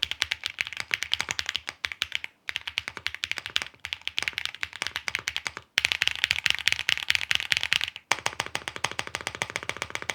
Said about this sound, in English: I actually found it had more of a deep clack sound